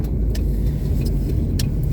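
Steady low road rumble and engine noise from inside a moving car on an early-morning drive, with a few faint clicks or rattles over the constant drone.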